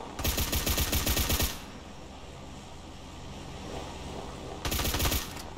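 Automatic gunfire from GTA San Andreas with a PUBG-style battlegrounds mod rattles in two rapid bursts, one longer at the start and a shorter one near the end, with a quieter game hum between them.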